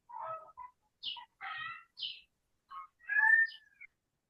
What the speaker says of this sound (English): I didn't mind the birds when we were doing the chatting before.